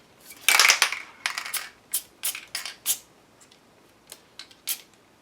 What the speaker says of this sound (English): I'm going to grab some of my transfer foil